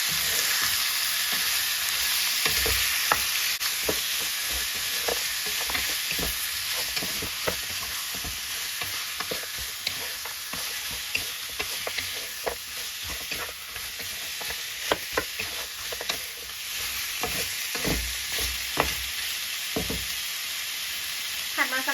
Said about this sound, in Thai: จากนั้นเราก็จะใส่ ซี่โครงหมูลงไป แล้วก็ผัดนะคะให้เขาเข้ากันนะ